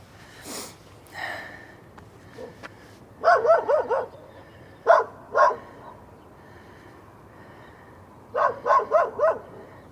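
A frightened dog outdoors in Switzerland barks in several bursts: a cluster of sharp barks, a pair of single barks, then another quick run of barks near the end, with quieter sniffs and snorts between them.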